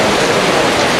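Heavy rain in Florida pours in a dense, steady hiss, loud and close with no breaks.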